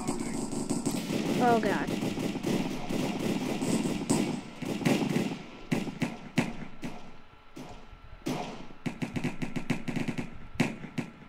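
Heavy .50 caliber gun in a Hypixel Cops and Crims match, firing in rapid bursts of sharp shots with pauses between, loud and close, mixed with game noise and a brief exclaimed voice.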